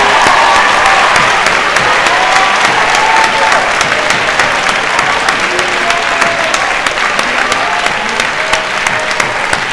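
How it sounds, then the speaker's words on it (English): A graduation audience at a Saint Mary's senior presentation breaks into loud, sustained applause and cheering. Dense clapping fills the space for nearly ten seconds, with a few faint voices mixed into the crowd. "Now's the time to cheer."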